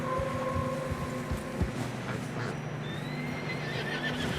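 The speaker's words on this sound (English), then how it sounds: "Horses are struggling." Horses whinny and snort while hooves plod through fresh snow in Red Dead Redemption 2, a loud neigh standing out over a continuous churning, crunching background.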